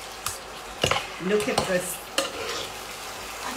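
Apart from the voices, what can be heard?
mixing chicken wings with sweet sticky sauce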